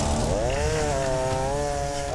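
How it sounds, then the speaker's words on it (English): A chainsaw cuts through thick ice around a trapped truck on a highway, its engine whining loud and steady with the pitch sagging and rising as the chain bites, running continuously throughout. "Brian uses a chainsaw to carve up the ice."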